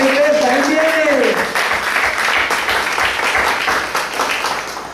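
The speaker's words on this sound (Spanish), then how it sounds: "Así que démosle un aplauso a Jesús." A church congregation applauds, the clapping swelling right after a preacher's voice fades, then continuing as a dense, steady patter that slowly tapers off.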